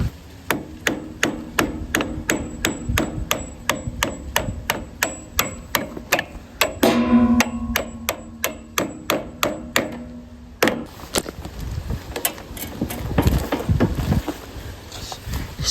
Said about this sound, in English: So I'm just gonna keep whacking it with this hammer